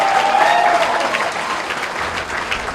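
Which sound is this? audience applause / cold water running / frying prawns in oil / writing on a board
audience applause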